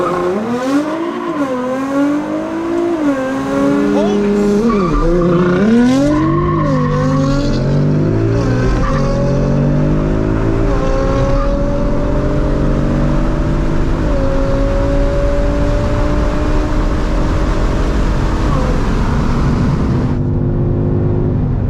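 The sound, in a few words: 2018 Mustang GT launch control start with tire squeal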